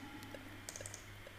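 Light typing on a computer keyboard used to control parameters in a music software setup, a few soft scattered key clicks, quiet and close, with no talking.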